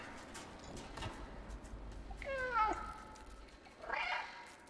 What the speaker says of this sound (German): Boah, das ist so süß, wie die miaut.